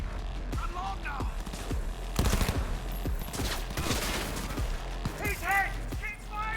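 Bursts of gunfire in the video game Cyberpunk 2077, rapid shots and impacts in a busy firefight, with shouting voices over the shooting.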